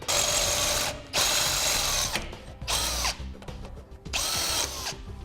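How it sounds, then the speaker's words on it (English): A power drill with a 5/16 bit enlarges holes in a metal bracket, running loud and close in four separate whining bursts with short pauses between them. "using a 5/16 drill bit, we'll enlarge these two upper holes here on our bracket"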